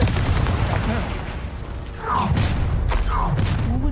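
A Confringo fire spell blasts in Hogwarts Legacy, a couple of sharp booming bursts around the midpoint and near the end, layered over dense game music and battle noise.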